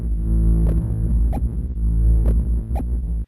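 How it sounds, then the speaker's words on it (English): Sustained SuperCollider synthesizer tones with a steady low hum and rich stacked harmonics, punctuated by two pairs of brief bright attacks, loud and continuous. "Some synth tones."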